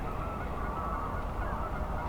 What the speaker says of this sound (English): I found this big flock of Canada geese right beside the highway at Bazzano